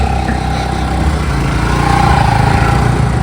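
A scooter engine runs at a village fair, giving a loud, close, continuous drone at steady revs with no voices over it.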